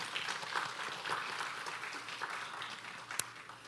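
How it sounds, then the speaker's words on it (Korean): A church congregation claps for its elders, a soft, diffuse patter of many hands at low volume with one sharper clack near the end. "박수 한번 보내주십시오"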